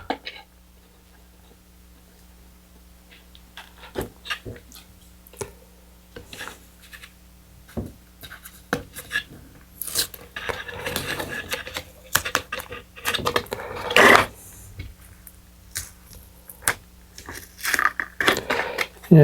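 Adhesive tape comes off a model rocket kit part in a close series of dry crackles and peeling rips, growing busier and louder toward the end.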